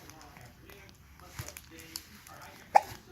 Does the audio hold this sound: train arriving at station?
no